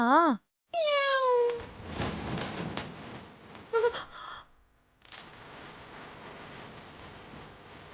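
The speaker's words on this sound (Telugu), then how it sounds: "దొంగ పిల్లి తలుపులన్నీ వేసినా ఎలా దూరిందో ఏమో" A cat meows several times indoors in a house, loud and close, its rising-falling cries standing out at the start, followed by shuffling movement and background noise.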